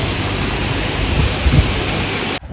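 Steady, dense roar of heavy night rain on a highway with low rumbling, continuous throughout and cutting off abruptly near the end.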